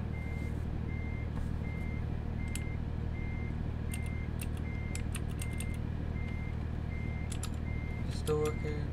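An American truck reversing in American Truck Simulator, with evenly spaced electronic reversing beeps repeating over a steady low engine drone, plus scattered faint clicks and a brief clatter near the end.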